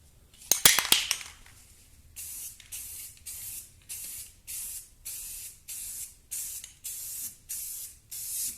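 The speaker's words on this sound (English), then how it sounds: "I'm going to spray this on." Black spray paint hisses onto a John Deere D110 mower deck in a steady series of about a dozen short, even bursts, each lasting under a second, preceded by a quick clinking rattle of the can.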